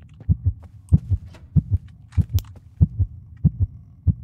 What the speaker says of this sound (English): I heard the heartbeat coming upstairs.